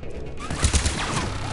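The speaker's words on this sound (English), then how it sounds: "I like hearing the sound of turrets because it just sounds like someone just spitting all over someone" Automated turrets fire in Mass Effect 3, a rapid burst of sputtering shots with heavier thumps in the middle of the short clip, set against dense game noise.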